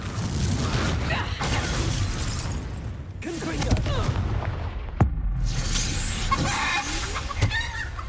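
The Confringo fire spell is cast in Hogwarts Legacy, setting off a series of booming blasts and shattering crashes with a sharp impact near the middle, mixed with spoken voices over a dense, loud background.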